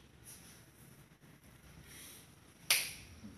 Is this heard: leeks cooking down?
no